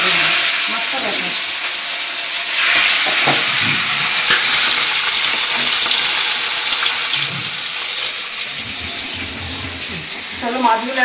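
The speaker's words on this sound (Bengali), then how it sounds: "এই যে তেলাপিয়াগুলো এবার তেলে, সর্ষের তেলের মধ্যে ভালো করে লাল লাল করে ভেজে নেবো।" Tilapia fish fry in mustard oil in a wok, giving a steady loud sizzle and crackle that continues throughout, with occasional stirring clatter and a voice speaking briefly.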